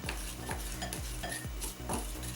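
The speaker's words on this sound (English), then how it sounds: "So I mix the powders together." Clay face mask powders, fine oatmeal and magnesium carbonate, stirred together in a bowl, giving a steady run of close scraping strokes with about four clear sweeps in a regular rhythm.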